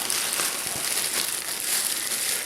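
A plastic bag, nested inside another bag in a packed bug-out kit, crinkles in a continuous, close, dry rustle that stays at an even level throughout.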